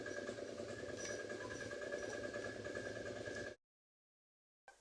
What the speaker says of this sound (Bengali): আমি চারটে সিটি মেরে নেব